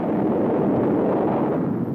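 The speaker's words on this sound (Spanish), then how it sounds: "Bomba grande." A large bomb explosion in a valley where giant mushrooms grow, heard as a loud, steady, deep roaring rumble that fills the whole stretch without a break.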